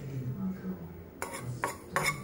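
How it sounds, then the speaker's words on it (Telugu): A spoon of poppy seeds dry-roasting in a pan gives a few soft metallic clinks and scrapes late on, over a quiet low hum. "1 స్పూన్ వరకు గసాలు డ్రై రోస్ట్ చేస్తున్నా"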